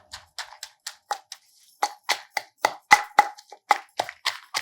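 Green chillies are crushed in a stone mortar for cucumber chutney: a close, steady series of about fifteen sharp pounding and grinding strikes in an uneven rhythm, with no voices.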